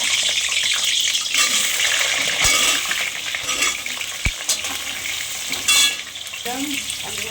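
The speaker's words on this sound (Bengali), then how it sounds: "আলুগুলো ভেজে নেব।" Potatoes sizzle while frying in mustard oil in a pan, a close, steady crackling hiss broken by a few clinks and stirring knocks, with no talk.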